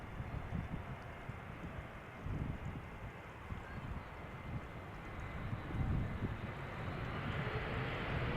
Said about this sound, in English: Behind it is an A332 KLM flight 767 arriving from Bonaire.